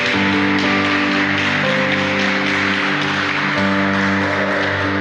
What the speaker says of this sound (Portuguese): aplauda então a Ele bem forte em nome de Jesus